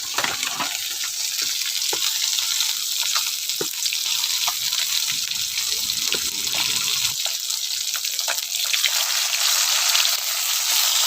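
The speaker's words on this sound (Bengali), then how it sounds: "মাছ ভাজা হয়ে গেছে।" Lote fish, which give off water as they cook, fry in oil in a covered pan over raised gas, producing a steady close sizzle with scattered pops and crackles over about eleven seconds.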